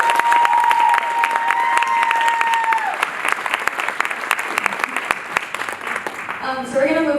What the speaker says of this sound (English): Can we get another round of applause for Kevin?